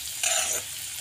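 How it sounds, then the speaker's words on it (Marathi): Fresh curry leaves dropped into hot oil over a traditional wood-burning village stove, a brief close burst of crackling sizzle lasting about half a second over quiet background hiss. "तेलात टाकायचा नाही, अंगावर उडते नाही तर तडतडते."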